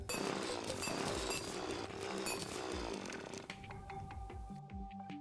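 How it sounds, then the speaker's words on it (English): A drill grinds through blocks in the Terraria video game: a harsh, buzzing, chainsaw-like whir with scattered clinks, loud and continuous before thinning out into sparser tool and game sounds near the end. "Time to drill."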